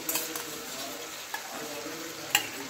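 Chicken pieces, about 500 grams, go into a hot pan with cooked ginger-garlic paste for a thin Bengali curry, giving a steady close sizzle with stirring scrapes and a couple of sharp utensil clinks.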